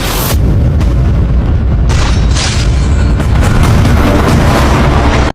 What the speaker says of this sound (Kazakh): ең соңғы оғымызды пистолетпен жібереміз